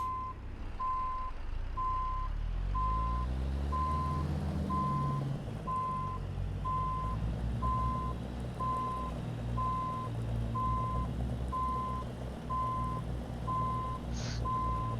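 A Freightliner Cascadia truck in American Truck Simulator backs up with its reversing alarm beeping in a steady, evenly spaced rhythm over a continuous low engine rumble.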